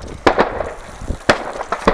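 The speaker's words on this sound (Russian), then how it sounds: "Взрывается она машина." Ammunition aboard a KrAZ truck cooks off after an artillery strike: sharp, cracking detonations go off at irregular intervals, with two loud bursts standing out above lighter pops and crackle at a moderate distance.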